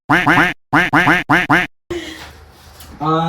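A human voice imitates a duck, giving about five loud, close, nasal quacks in quick bursts. A short noisy pause follows, then a voice resumes.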